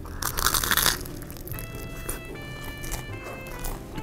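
A close, loud crunch from biting into a hotel Cuban sandwich with roast pork, ham and pickles, followed by quieter chewing and soft rustling.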